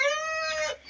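Young barred Creole rooster giving a short, strained call, a single harmonic-rich cry about a second long that rises slightly then breaks off, heard close and alone.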